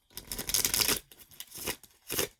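Tarot cards being shuffled in three bursts of crisp riffling and flapping, a long one followed by two shorter ones, close and clear with no talking.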